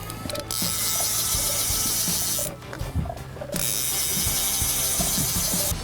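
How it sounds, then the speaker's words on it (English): Fishing reel ratchet clicking loud and fast while line pays out during bucktail and skipfly fishing, a continuous buzzing chatter that pauses briefly midway, then resumes. "I love the sound of those reels."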